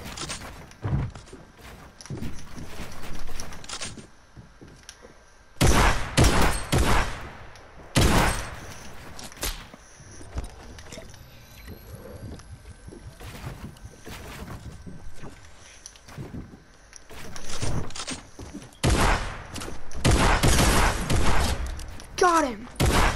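Video game gunfire in a bounty match, heard as loud bursts of rapid shots in several clusters across the stretch, with a player talking in between and over some of the firing.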